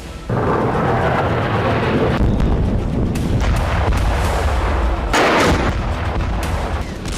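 Heavy, rumbling explosions of airstrikes at night in Yemen boom continuously, with deep low-end thuds and a few sharper blasts standing out over the sustained roar.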